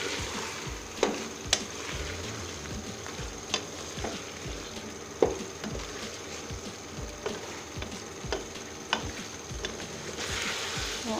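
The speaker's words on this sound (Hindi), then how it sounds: "अब मैं इसमें आलू शामिल करूँगी और 2 मिनट के लिए इन्हें भून लूँगी।" Potatoes and cooked mutton fry in a pot for aloo gosht, a continuous sizzle with periodic scraping and clinking of a stirring spoon against the pot, close and clear with no talking.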